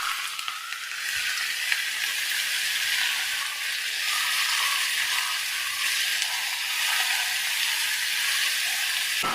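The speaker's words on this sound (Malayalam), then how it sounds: "നല്ലപോലെ ഒന്ന് വഴറ്റിയെടുക്കാം." Chopped onions with salt sauté in a hot pan, giving a steady, bright, close sizzle that hisses continuously without pause, with no voices.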